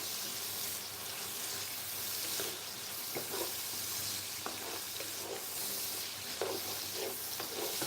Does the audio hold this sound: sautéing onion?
yes